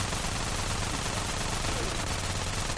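Twin micro SMGs spray continuous rapid automatic gunfire in GTA San Andreas, a loud dense unbroken burst with no talking.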